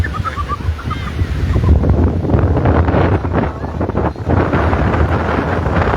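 Strong wind buffets the microphone in a steady roar at a beach in Lingayen, Pangasinan, with surf rumbling underneath.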